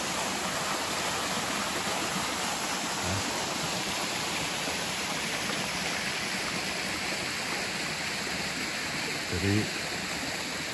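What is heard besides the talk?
waterfall at a rest area, water flowing past a small dam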